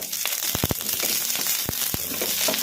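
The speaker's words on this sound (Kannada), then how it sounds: "ಹಸಿಮೆಣಸಿನ್ಕಾಯನ್ನ ಮೀಡಿಯಮ್ ಫ್ಲೇಮಲ್ಲಿ ಇಟ್ಕೊಂಡು ಫ್ರೈ ಮಾಡ್ಕೊಂಬಿಡೋಣ" Cut green chilies frying in hot oil over a medium flame for a bottle gourd chutney, a dense steady sizzle with sharp crackling pops scattered throughout, close and continuous with no talk.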